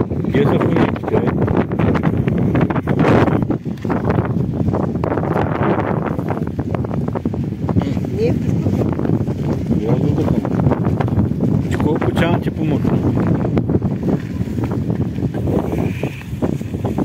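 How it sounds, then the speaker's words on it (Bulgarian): Strong wind gusts buffeting the microphone at a Black Sea beach, a steady loud rumble lasting throughout, with people talking over it. "Много вятър излезе обаче, не става за чадъри"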